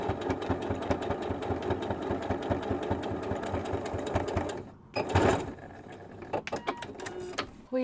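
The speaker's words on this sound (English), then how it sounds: "I'm going to take this to the machine, and now we are going to just stitch along the pinned lines there." Sewing machine stitching along pinned lines on shirt cuffs during a sleeve alteration, a steady rapid mechanical whir for about five seconds, then a brief stop and short bursts of stitching.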